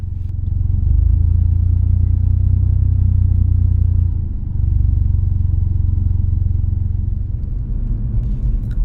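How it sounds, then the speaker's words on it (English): A manual car's engine idles steadily at its lowest speed, a low, even rumble held throughout with one brief dip midway and no talk over it. "listen to the sound of your engine idling, as this is how it sounds at its minimum speed"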